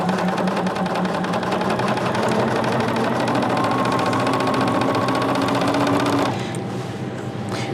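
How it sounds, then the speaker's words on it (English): A sewing machine runs in one continuous fast burst while chain stitching quilt squares together for a Color Burst throw, steady rapid needle clatter close up, stopping abruptly near the end into quieter room noise. "all we're doing this step is chain stitching all of these squares together"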